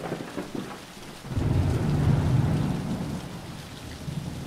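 Thunderstorm with rain: steady hissing rainfall, then a deep rolling thunder rumble that swells loudly and slowly fades back under the rain.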